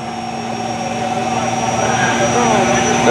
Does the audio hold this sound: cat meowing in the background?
no